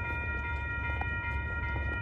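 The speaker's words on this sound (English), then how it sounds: "The crossing, it's two trains meeting each other. Two Union Pacific trains." Union Pacific freight trains roll past a railroad crossing as two trains meet, a steady low rumble of wheels and cars with a constant ringing tone over it, heard from nearby without talk.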